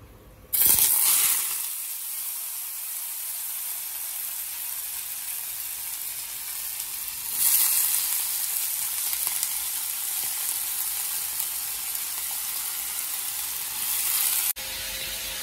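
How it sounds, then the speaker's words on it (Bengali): Chopped potatoes fry in hot oil with a loud, steady close-up sizzle, swelling sharply as they hit the pan and again midway, then holding a constant bright hiss. "তেল গরম হয়ে গেছে, এই যে আলু কুচিয়ে নিয়েছি, এখন আলুগুলো ভেজে নেব।"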